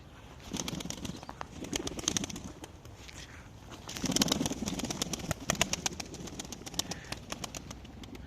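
Rain-soaked pigeons in a coop flutter and shuffle, with bursts of wing flapping, soft scratchy movement and faint cooing, moderately close and fairly quiet with no talk.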